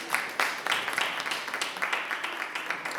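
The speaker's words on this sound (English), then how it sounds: "Let's clap them up." Audience applause at a youth gathering: a steady wash of many hands clapping, with no single clap standing out, held for about three seconds.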